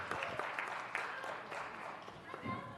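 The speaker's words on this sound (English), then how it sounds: "Let's give them a round of applause." Quiet applause in a city council meeting chamber welcoming visiting second graders, soft scattered clapping with a voice speaking over it.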